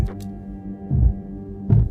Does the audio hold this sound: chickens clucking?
no